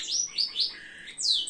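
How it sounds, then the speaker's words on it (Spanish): Pet birds chirping indoors, a quick series of bright, close tweets and rising whistles that repeat in short bursts with no talk. "Mis pájaros están contentos de oírme aquí hablar"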